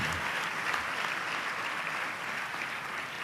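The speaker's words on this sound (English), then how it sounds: "I think we need an applause for them." An audience applauds steadily at a 97th birthday celebration at Prashanthi Nilayam, a dense, even wash of clapping from a large crowd at moderate distance, with no voices over it.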